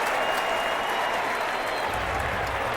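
Stadium crowd at an NFL game, Colts at Titans, keeps up a loud, steady roar of cheering and noise throughout, with a deeper swell building near the end.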